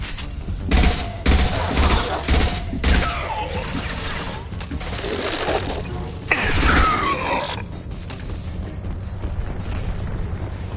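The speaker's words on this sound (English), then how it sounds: "Concussive shot!" A concussive shot ability fires in Mass Effect Legendary Edition amid a loud battle, with repeated booming blasts and gunfire-like bursts through the first half, then a sharper impact and a lingering rumble.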